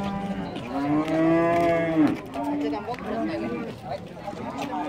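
A pied dairy cow at the Sokuluk livestock market gives a long, loud, close moo followed by shorter lowing calls, with people talking nearby throughout.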